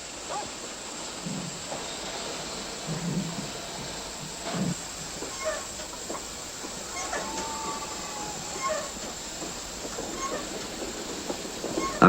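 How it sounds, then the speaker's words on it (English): Wheels of a freight train of railroad cars roll steadily along the rails with a constant hiss and faint, irregular clanks, heard alone at moderate level. "from all over Nazi Europe, the wheels of the death trains roll"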